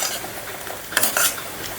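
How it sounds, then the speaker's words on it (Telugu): A spoon stirs a corn and jaggery mixture for laddu in a pan, making close, soft scraping and rustling sounds with a couple of brighter scrapes, short and without talk. "అదంతా బెల్లం అంతా దాన్ని పట్టేటట్టు దగ్గరకు వచ్చేటట్టు కలుపుకోవాలి"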